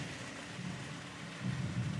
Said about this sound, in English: And yeah, she's starting to rain.